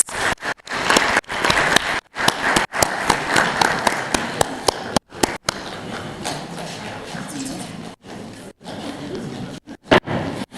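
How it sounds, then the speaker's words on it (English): Sustained audience applause in a hall at the 18th Africa Scout Conference plenary session, loud rhythmic clapping with occasional brief breaks and swells, continuing for several seconds with no talk over it. "Please give them a round of applause as they come."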